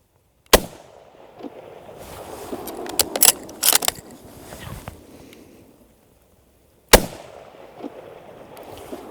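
Two sharp, loud rifle shots from a discontinued classic rifle ring out about six seconds apart, with quieter clicks and handling rattles of the gun between them.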